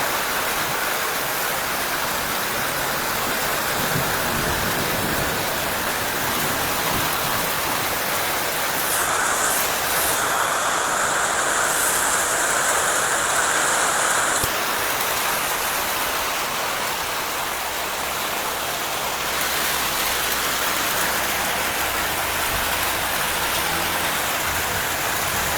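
Heavy rain falls in Jammu as a thick, continuous roar of water on surfaces, loud and unbroken, with brief higher-pitched swells partway through and no talking.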